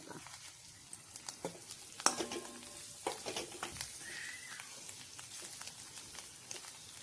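Jaggery cooking for a dal-batti dish with coriander is stirred in a pan, soft scraping strokes and light patter over a faint sizzle, close but quiet, with a few sharper clicks from the utensil against the pan.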